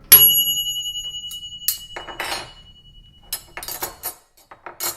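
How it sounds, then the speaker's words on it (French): An oven timer or gong-like bell rings with bright metallic strikes and clicks, starting with a loud ring that decays, then scattered sharper hits and rattles in short bursts, fairly close and without talk. "quand on parle du gong, le voici, le voilà"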